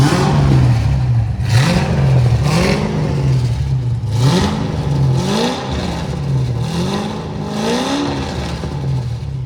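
A Corvette Z06 C6 revs hard with its exhaust valves closed, a loud, close engine note repeatedly rising and falling through about eight quick blips.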